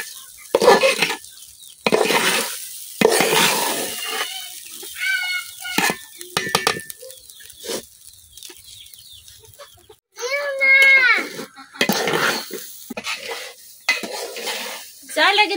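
Rice and spices for khichuri are fried and stirred in a pot in a village kitchen, with intermittent metal scrapes and clatters close by, a chicken clucking in the background and a voice talking between strokes.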